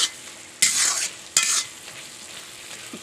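Spoon stirring rice flour paste into simmering bean seed curry in a pan, two quick scraping strokes over a steady soft sizzle, close with no talk.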